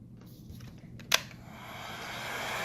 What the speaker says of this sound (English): use a hairdryer at home if you have one